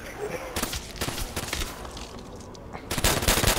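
Rapid gunfire from Call of Duty: World at War Nazi Zombies on the Nacht der Untoten map, a dense run of loud, near shots in bursts with short gaps and a heavier burst at the end.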